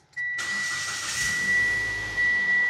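A 2016 Mitsubishi Outlander engine cranks and catches, then settles into a steady, even run with a thin high whine, loud and close from inside the cabin, with no talk.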